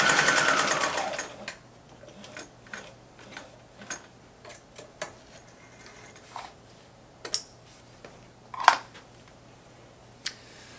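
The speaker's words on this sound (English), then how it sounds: "And then I'm going to reverse back over that stitch." A Thompson Mini Walking Foot sewing machine with zig-zag stitches a bar tack, reversing back over the seam in a run of short, irregular ticking stitch clicks after a brief loud rush; no talking.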